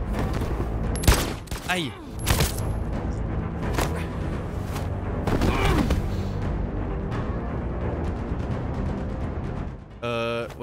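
Gunshots in the video game Detroit: Become Human, a few loud sharp shots spaced over the opening seconds followed by sustained rumbling, with people talking under the sound.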